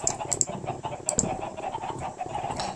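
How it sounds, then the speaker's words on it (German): Chickens in the video game Minecraft cluck in short, repeated bursts at a modest level, mixed with soft keyboard clicks from the player. "Los, Hühner."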